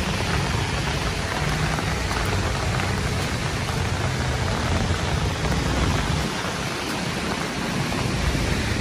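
Heavy rain pours down outdoors by Manila Bay at Dolomite Beach, a dense, loud, unbroken wash of falling water with no voices.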